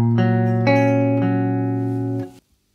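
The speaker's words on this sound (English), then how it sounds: "we get that really open sound from the spread triad" Guitar strums a series of spread triad chords, three bright ringing strums in close succession that sustain and then are cut off together, played alone without talk.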